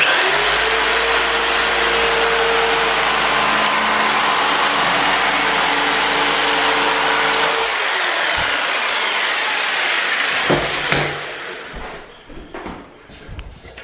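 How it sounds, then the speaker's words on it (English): A jigsaw cuts through material during an old house renovation, a loud, steady whining buzz that runs continuously for about eight seconds, then cuts off and leaves a few clunks and handling noises. "I'm just cutting mine with a jigsaw."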